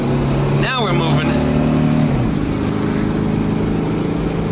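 A 1969 VW Fastback with an automatic transmission drives along; its engine note climbs, then drops as the gear changes, followed by a steady running drone with road noise.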